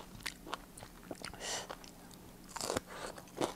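Crispy fried Costco potstickers crunch loudly as they are bitten and chewed close up, a burst of sharp crackling bites and chewing with no speech.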